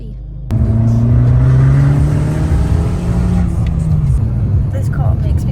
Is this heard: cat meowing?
no